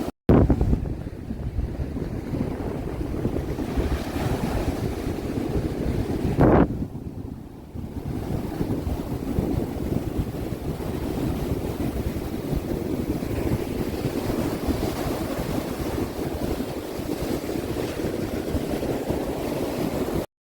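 Wind and surf at Modalupadu beach near Srikurmam, a steady, loud roar of wind buffeting the microphone over rolling waves, with a brief sharp gust burst early on and no voices.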